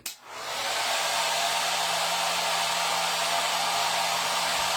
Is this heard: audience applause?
no